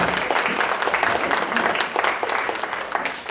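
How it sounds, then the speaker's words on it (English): An audience at a presentation applauds, a dense, steady clapping that stays loud and even throughout. "I would like to give you a round of applause for Nate Sievers."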